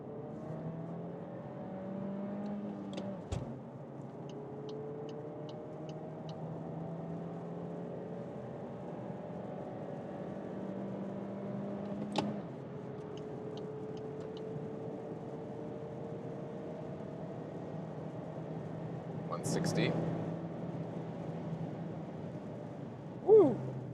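Manual VW Golf 8.5 turbo petrol engine pulling in second gear in sport mode on a German Autobahn, a steady muffled cabin drone with rising tones and a few brief gear-shift clicks, heard from inside the car.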